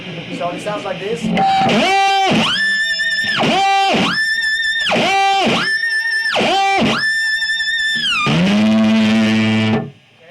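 An electric guitar rings out high-pitched harmonic notes through heavy distortion and effects, with a series of sustained, stepping tones in a loose rhythm that ends in a sliding, warbling note before cutting off.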